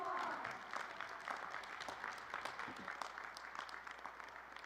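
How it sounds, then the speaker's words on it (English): Commencement ceremony audience applauding after a speaker's call, a broad sustained clapping from a large gathering that is fairly distant and quiet and eases off slightly toward the end. "So you better give her a big round of applause."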